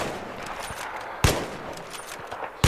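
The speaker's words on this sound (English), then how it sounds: "So now the M40A5, the fastest rifle, it needs for 10 bullets" Sniper rifle shots from an M40A5 in the game Battlefield 3, with one sharp, loud report standing out midway and another at the very end over a steady background rumble.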